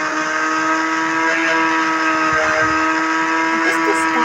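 A car in the video game GTA 5 drives along with a steady, loud engine drone that shifts slightly in pitch, and there is a brief higher squeal near the end.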